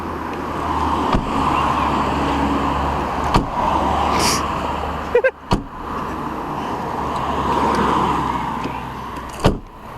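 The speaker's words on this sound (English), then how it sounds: "So this has got electric windows that they've managed to install." The electric windows of an old Ford Mondeo hum steadily as they move, with a few sharp clunks and knocks as the glass stops, all inside the car.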